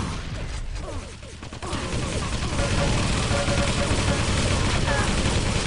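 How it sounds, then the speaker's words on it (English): Machine gun fire during a Quake Live team deathmatch: a loud, dense stream of rapid gunfire and clattering game effects that builds after a brief lull, with a commentator talking over it. "Nice bit of MG again from Bendigo."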